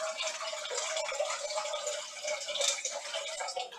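Filtered water poured steadily into a cooking pot for edamame, a continuous bright splashing trickle close by, fairly quiet and uninterrupted.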